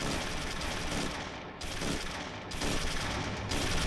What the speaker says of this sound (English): We can't see him, but we're going to put some rounds on that anyway.